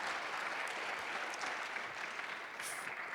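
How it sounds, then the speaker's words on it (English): Sustained applause from a lecture audience, steady and dense throughout, with no voices over it. "Applause."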